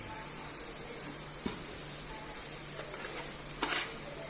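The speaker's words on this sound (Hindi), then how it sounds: "So just 1 minute we fry all these vegetables." Potatoes and chopped vegetables fry for pav bhaji, giving a steady close sizzle with soft stirring scrapes and a couple of brief louder clatters, no talking.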